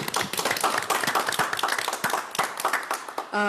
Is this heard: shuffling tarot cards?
no